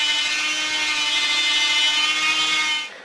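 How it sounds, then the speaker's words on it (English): Power grinder with a grinder bit sanding down a metal push button trigger valve part, a loud steady high-pitched whine held for about three seconds before cutting off at the end, with no talking. "turn it on, and sand it down until it's even with the cuts you just made. So, go ahead and grind it down"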